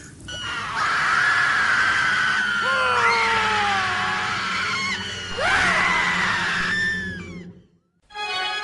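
A person screams loudly in long, wavering, pitch-sliding bursts, several sustained shrieks back to back that stop abruptly near the end.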